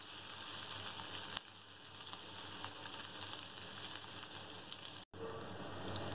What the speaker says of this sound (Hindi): ऑयल जब गर्म हो जाएगा तो ये मैंने आधी प्याज ली है, तो काटी है, ये डाल देंगे।